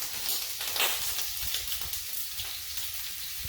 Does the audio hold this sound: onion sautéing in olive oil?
yes